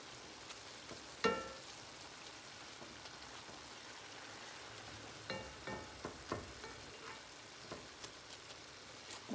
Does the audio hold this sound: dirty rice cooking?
yes